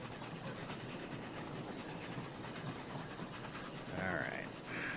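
A train runs along its track in the automation game Oddsparks, a steady rumbling roll with faint rhythmic clatter throughout and a brief whistle-like tone near the end, moderately quiet and constant.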